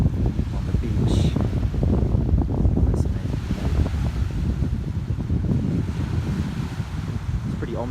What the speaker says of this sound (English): Ominous though with the wind.